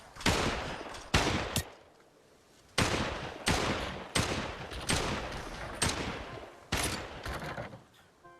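1911 pistol fired repeatedly in the VR shooter Population One: about nine sharp, loud shots at an uneven pace, each with a short echoing decay, and a brief pause near the second mark.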